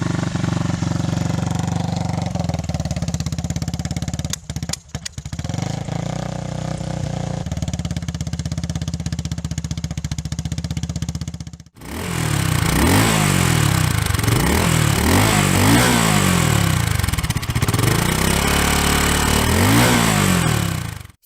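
A loud, steady single-cylinder engine of a new BSA Gold Star motorcycle rumbles throughout, shifting to a rougher, more pulsing exhaust note with rising and falling revs in the second half.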